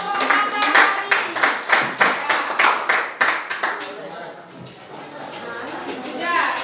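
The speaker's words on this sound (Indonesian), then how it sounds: "berikan tepuk tangan untuk kelompok mata hari ini." A classroom group claps for the Matahari group after a poster presentation: about nine distinct rhythmic claps in the opening seconds, then tapering into scattered children's chatter and speech.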